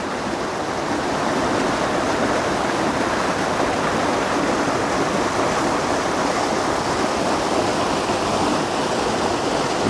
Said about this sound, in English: A beautiful little waterfall here.